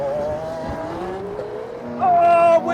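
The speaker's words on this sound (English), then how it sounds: "Oh, wheels spin off the line." A Lamborghini Aventador S Roadster and McLaren 720S Spider launch at a drag race, with loud tire squeal and wheelspin over roaring engines that rise sharply near the end, and a voice briefly heard.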